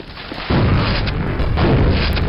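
Shotgun blast in the VR game Quake VR, a single loud booming shot that lingers as a heavy rumble, followed by a further burst.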